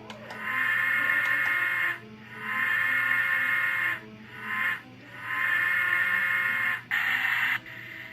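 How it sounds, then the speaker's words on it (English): An HO scale Rivarossi Allegheny model locomotive runs its grade-crossing whistle sequence. It gives four long, tonal synthetic whistle blasts separated by short gaps, then a final shorter blast, all loud and close with no talking. "I did not realize that was a full-on set gate crossing sequence for the whistle."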